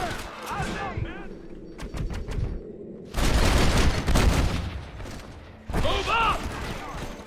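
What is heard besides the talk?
gunfire in the video game Red Dead Redemption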